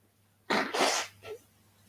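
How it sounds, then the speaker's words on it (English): A person blows their nose in one strong burst, followed by a shorter second snort, close and loud against quiet background hum, with no talking. "Guys, I need to blow my nose again."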